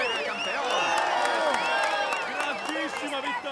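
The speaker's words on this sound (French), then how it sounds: "Allez, on l'applaudit encore." At the finish of stage 6 of the 2017 Vuelta, from Vila-real to Sagunto, a large crowd claps and cheers steadily. The applause is dense and continuous, with whoops and voices calling over it.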